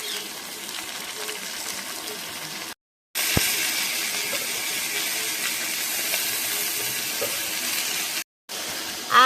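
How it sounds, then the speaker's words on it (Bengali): Chicken roast pieces frying in a pan, giving a steady, close hiss of sizzling oil that carries on for several seconds with two brief cuts of silence. "অনেকগুলো পিস তো এই জন্য একটু বেশি সময় লাগবে ভাজার জন্য"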